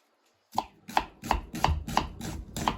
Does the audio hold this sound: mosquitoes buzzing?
no